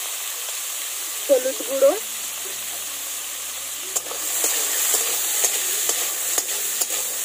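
Cut potatoes seasoned with salt and turmeric fry in hot oil in a kadai, a steady close sizzle running throughout after a brief spoken remark near the start.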